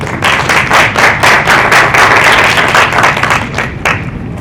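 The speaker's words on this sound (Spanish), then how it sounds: "Lo recibimos con fuerte voto de aplausos." An audience at a water authority presentation claps together in a loud, dense burst of applause that carries through the whole stretch before easing slightly at the end.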